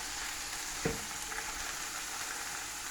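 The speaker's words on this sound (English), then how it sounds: "we'll just smash it down in the pan into some patties. So like that, and then squish down, and then we'll get these nice and crispy." Beef mince and rice patties smashed down in a pan crackle with a steady, even frying hiss, close up and moderately quiet, with one brief knock of a utensil and no talking.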